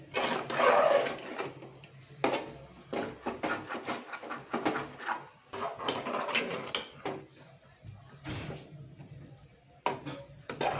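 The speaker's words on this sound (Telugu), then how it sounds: "ఇలా కలుపుకోండి అలా కలుపుతూ ఉండాలి" A sweet mixture is stirred in a pan with repeated scraping strokes against the pan, close and steady. Occasional quiet voice sounds come through.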